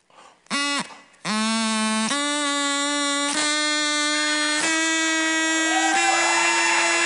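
A drinking-straw whistle is blown in long sustained honks while the straw is cut shorter, so the reedy buzzing tone steps upward in pitch after each brief break, loud and close with no talk.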